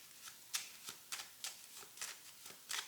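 Playing cards handled and laid down during a tarot-style card reading, a series of about eight short, crisp slaps and flicks at a steady rhythm, close and fairly quiet, with no voices.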